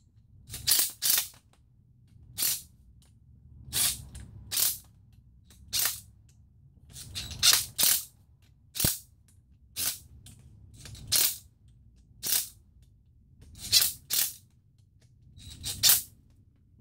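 An impact gun snugs down the ring gear bolts on a differential during a rebuild in a crisscross pattern, firing short sharp rattling bursts, often paired, separated by quiet gaps, close up over a faint low background hum.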